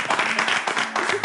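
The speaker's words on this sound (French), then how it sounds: "Applaudissons." A studio audience at a television show gives a short burst of applause, close and fairly loud, with scattered clapping and a voice heard underneath.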